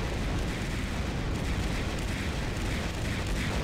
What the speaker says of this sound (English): It's a beefy cannon, right?